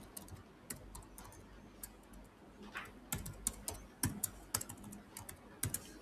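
Typing on a computer keyboard: irregular bursts of soft key clicks, steady and close, growing a little louder and more clustered toward the end, with no voices.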